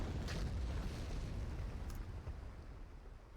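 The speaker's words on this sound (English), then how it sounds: "And here is their orbital bombardment. It's a bunch of turbo lasers coming in." Orbital bombardment of turbo laser blasts in Star Wars Battlefront Commander: a continuous low, rumbling roar of explosions with a couple of brighter bursts early on, fairly steady and slowly fading toward the end.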